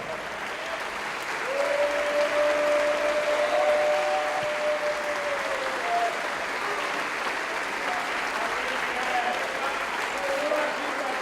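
Church congregation applauding together at a worship service, steady dense clapping swelling after a quiet start and continuing throughout, with voices and a sustained musical tone underneath.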